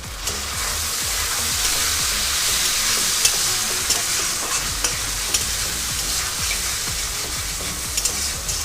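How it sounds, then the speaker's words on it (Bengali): Chopped tomato goes into softened onions frying in a pan for a green pea ghugni, giving a steady loud sizzle throughout with frequent soft scraping stirs and small clicks of the spoon. "এই পর্যায়ে আমি কেটে রাখা টমেটো কুচি দিয়ে দেবো"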